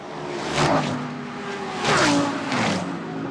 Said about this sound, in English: Bentley, all that power and grunt Bentley has just dragged itself up the hill.